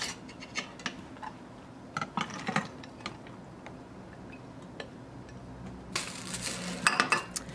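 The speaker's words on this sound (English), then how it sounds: "And then add the fruit." Blueberries poured into a pan on medium heat, a scatter of light ticks and clinks followed near the end by a denser, louder rattle as more fruit tumbles in, close and with no talking.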